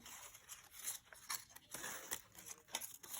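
Scissors cut through paper for a black-and-white glue book page, giving faint, close, irregular snipping and crinkling, quiet and intermittent with no talk over it.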